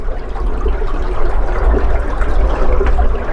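Water flows steadily through a narrowing river, as a continuous, fairly loud rushing and trickling wash runs throughout without a break.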